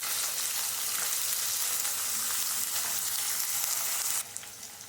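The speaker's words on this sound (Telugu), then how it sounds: "చూడండి ఇవి కొంచెం మరి ఎర్రగా వేగేంత వరకు కూడా వేయించుకుందామండి." Sliced onions crackle in hot oil with a dense, steady hiss that stays nearly constant. The sizzle drops slightly in level near the end, close-up and with no voices.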